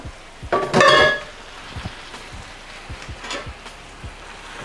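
Shrimp and their juices dropped into a hot pan of Bay Area style garlic noodles set off a loud burst of bright sizzling that settles into a steady crackle, with soft utensil scrapes and taps spaced through it.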